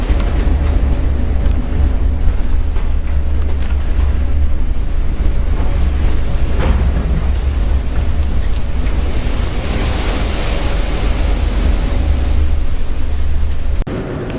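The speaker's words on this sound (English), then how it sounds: "A severe storm caught a cargo ship in the Pacific Ocean. Huge waves are rolling on the deck." Huge waves in a severe Pacific Ocean storm crash over the deck of a cargo ship, with a constant, loud roar of surf and buffeting wind on the microphone and no pause throughout.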